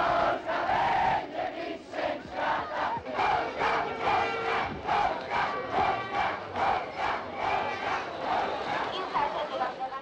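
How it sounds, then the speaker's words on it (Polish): Huge crowd of football fans at Warsaw's Okęcie airport in 1982 chanting in rhythmic, pulsing bursts, massed voices rising and falling in a repeated cadence with a busy murmur underneath. "Na Okęciu tłumy kibiców w oczekiwaniu na piłkarzy."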